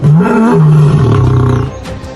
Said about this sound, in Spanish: Frente al macho alfa, dejó escapar un poderoso rugido